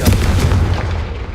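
A Confringo spell blast in the Hogwarts Legacy video game: one short, loud, punchy burst with a low rumbling tail that fades over about a second.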